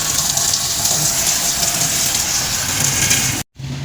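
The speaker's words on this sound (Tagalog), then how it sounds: "Ayun siya, nagdidilig ng halaman." Water sprays and splashes steadily while plants are watered in the morning, a continuous close hiss that cuts off briefly near the end and then resumes.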